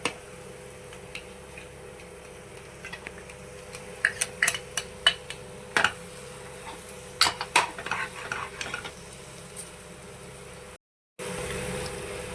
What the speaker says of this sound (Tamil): போட்டு நல்லா ஒரு கிளறி விட்டுலாம்